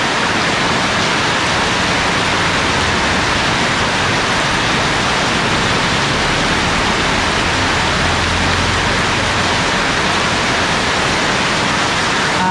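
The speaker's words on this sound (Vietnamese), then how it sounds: "Chưa đến 18 giờ mà mưa lớn quá trời." Heavy typhoon rain pours down steadily in the early evening, a loud, dense, unbroken hiss of downpour drumming on surfaces throughout, with no voices.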